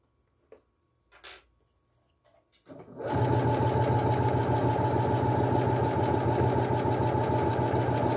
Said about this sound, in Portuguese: E continuo costurando até o final, sempre alinhando a peça.